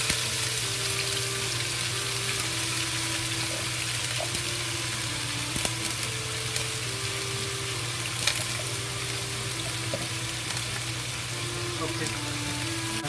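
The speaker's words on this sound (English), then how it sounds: "we fry the garlic. When the garlic smell raise out, we add the drained potato into it." Shredded potato stir-fries with garlic in a pan, a constant close sizzle of hot oil with occasional clicks and scrapes, alone and steady throughout.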